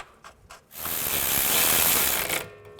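A ratchet wrench tightens bracket bolts on a 2011-2014 Chrysler 200 during a front strut replacement, a brief close-up burst of rapid clicking lasting about two seconds after a couple of faint knocks.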